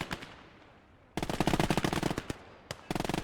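MG42 machine gun fire in the World War II game Gates of Hell: a few scattered shots, then two loud, rapid sustained bursts with a short gap between them, close and harsh.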